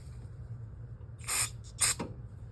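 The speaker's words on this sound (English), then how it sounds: "Spray the rag a little bit." Two short bursts of aerosol parts cleaner sprayed onto a rag, the second slightly longer, close and hissing against a low background hum, with no speech.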